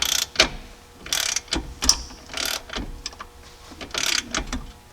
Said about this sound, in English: I'm going to fish in our box end wrench on the back side so that way it grabs onto that nut